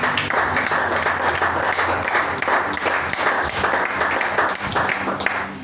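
A church congregation at a morning prayer service applauds, with dense, steady clapping and scattered cheers filling the room at close range with no pause.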